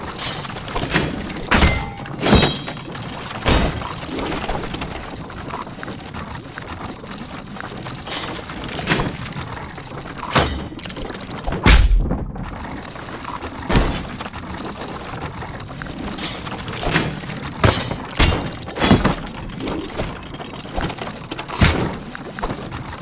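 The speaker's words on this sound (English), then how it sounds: "His only hope was to parry with his trusty shield." A shield parries a training dummy's attacks in Tails of Iron, with repeated heavy thunks and clanks at irregular intervals and one deeper ground-shaking impact near the middle, all loud and close with no talk.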